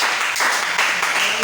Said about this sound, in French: Donnons une acclamation à notre Seigneur.